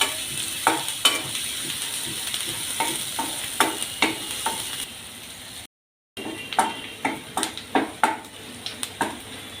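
Onion, dried red chillies and flax seeds sautéing in a pan, a soft steady sizzle under repeated sharp clinks and scrapes of a spoon stirring against the metal, with a brief cut of silence midway.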